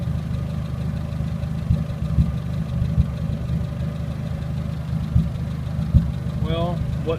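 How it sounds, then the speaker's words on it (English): Blower motor of a 1980 Chevy Luv, a steady, loud, continuous whooshing hum close by, with a few light knocks and a brief squeak near the end, no talk. "Blower motor works."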